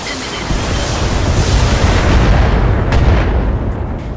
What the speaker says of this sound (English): we're just gonna stand here and start murdering vehicles